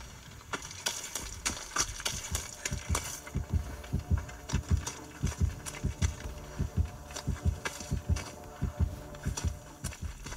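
Killer terror-radius heartbeat from Dead by Daylight Mobile, a steady low double-thump pulsing repeatedly and loudly throughout, with no talk over it.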